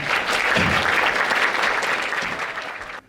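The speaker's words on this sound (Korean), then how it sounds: "큰 박수로 맞이해 주시기 바랍니다" A university talk show audience claps warmly and continuously, the applause holding steady before fading and cutting off at the end.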